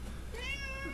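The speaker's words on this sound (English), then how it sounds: "yes, that's my cat." A pet cat gives a drawn-out meow with rising and falling tone, fairly close but soft, over a steady low background hum, with no talking.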